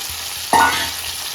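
Onions frying in a kadai, a steady close sizzle with one brief louder hissing scrape of stirring midway, no voices.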